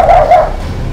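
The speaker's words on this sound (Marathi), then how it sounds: "भेदरलेला कुत्रा इकडे तिकडे पाहत भुंकू लागला।" A frightened dog gives a short, loud bark or two close by, with no voices.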